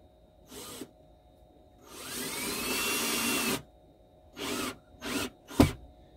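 A power driver whirs in several bursts while driving a screw into a kitchen shelf inside a box van: a short buzz, a longer sustained run, then three quick spurts ending with a thunk as the screw seats.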